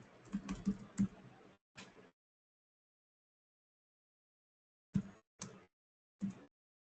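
Bursts of typing on a new computer keyboard, a quick flurry of clustered keystrokes at the start, then silence, then a few isolated sharp key taps, close and fairly quiet.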